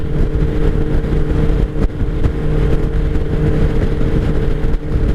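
A 2003 Kawasaki ZR7S motorcycle cruising at night, its engine droning steadily and close with a constant low hum, mixed with wind buffeting the microphone; no talking.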